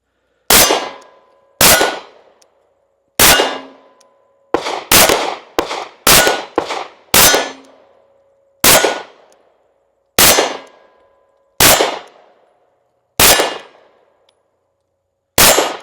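Gunshots strike steel targets at an outdoor shooting range during target-transition drills: about a dozen sharp, loud reports, each followed by a ringing metallic clang, spaced out at first and then fired in a quick cluster.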